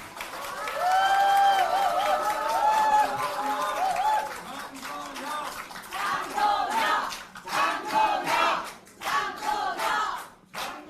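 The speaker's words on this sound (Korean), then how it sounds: "뜨거운 박수 부탁드리겠습니다" Crowd at a political party real-estate task force town hall in Gyeonggi-do applauding the party leader, clapping and cheering mixed with voices, swelling and dipping in uneven waves over several seconds.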